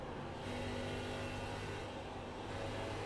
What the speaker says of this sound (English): You hear how much he is having to get out of the throttle versus earlier on in the run